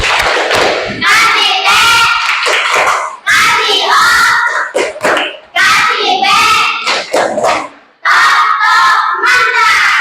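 Schoolchildren in a classroom clap together in loud rhythmic bursts, shouting and chanting along in unison, with short pauses between rounds.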